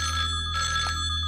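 A telephone rings loudly and close, its bell tone shrilling in a steady electronic buzz across the whole moment with a slight break midway, over a low hum.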